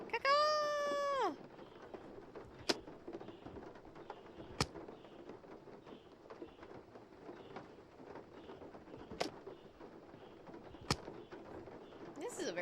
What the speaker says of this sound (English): Yes, birds, I hear you.